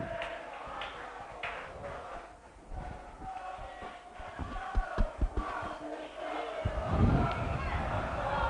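Gateshead football supporters cheer and shout inside the stadium during a National League match against York City, a swelling crowd roar building near the end beneath steady commentary.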